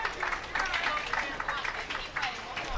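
A small crowd claps for a young bowler at the Junior Gold Championships bowling tournament; soft, scattered applause continues under a commentator's voice throughout.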